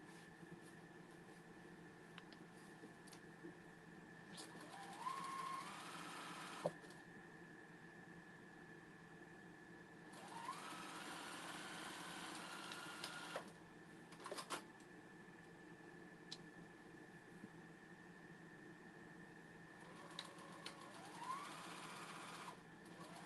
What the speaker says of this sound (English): you're gonna sew down here, and then I'm gonna lock stitch here, sew right here, lock stitch here